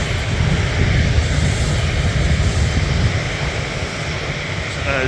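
A large airliner at Manchester Airport roars steadily and loudly throughout, a broad continuous jet engine rumble with no pause.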